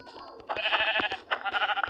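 A sheep bleating in a video game, a short wavering bleat repeated twice in quick succession, close and fairly loud.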